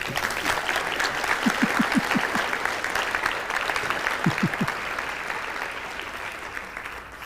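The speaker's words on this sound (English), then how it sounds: "So give her a nice big applause, please" Steady applause from an audience fills the whole stretch, many hands clapping at an even level with a few whoops rising above it.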